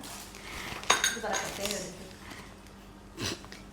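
A large metal spoon clinks against cutlery and dishes while a hospital bag is packed, a few sharp bright rattles close by with speech around them.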